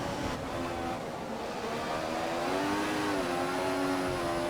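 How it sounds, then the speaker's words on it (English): Formula One race cars in the F1 2014 video game, at the Malaysian Grand Prix, scream along the straight in a loud, continuous engine whine whose pitch climbs and shifts as they pass close by. "there's 3 cars coming down the straight"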